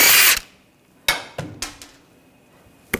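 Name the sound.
tool removing last lug nut from BMW X5 wheel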